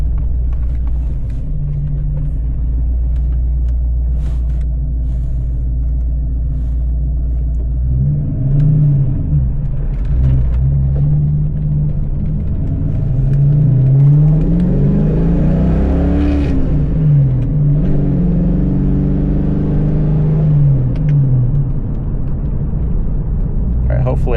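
A car accelerates from a standstill toward 60 mph, its engine rumbling low and rising in pitch through gear changes, heard from inside the cabin with constant road noise and speech over it.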